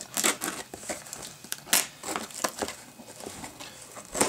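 A blade cuts open a disc golf mystery box package: close, crisp crinkling and tearing of tape and cardboard in irregular bursts and scrapes, with no talking.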